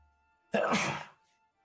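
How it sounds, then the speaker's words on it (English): A single burst of a sneeze, breathy and noisy, close by and fairly soft, lasting about half a second before quiet returns. "I'm gonna sneeze."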